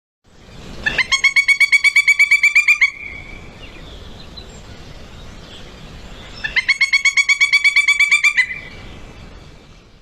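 A pileated woodpecker gives two loud, rapid series of ringing calls, each run lasting about two seconds with a pause of quiet between them and no talking.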